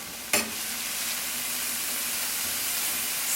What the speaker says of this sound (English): half of bell pepper, we're going to saute this